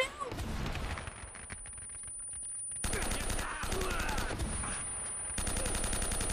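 Gunfire in Uncharted: Drake's Fortune rattles off in quick repeated shots, fairly quiet and blended with other game sounds through the whole stretch.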